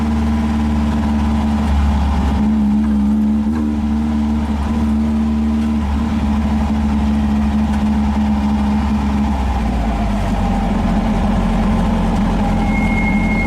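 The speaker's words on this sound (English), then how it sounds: "you barely touch the throttle and it jumps" A 1915cc VW Manx buggy engine runs loud and close under throttle while driving. Its droning hum rises and falls through revs, then shifts pitch near the end. No speech is heard.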